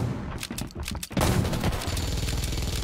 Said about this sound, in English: Oh, he's shooting me.